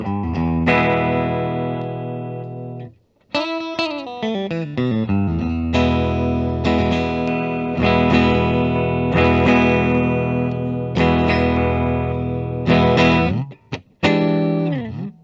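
A 2013 Gibson Les Paul Supreme Trans Black electric guitar on its middle pickup position, sustained chords and single notes through an effects unit with mild drive and chorus, loud and continuous with a couple of brief pauses and pick slides.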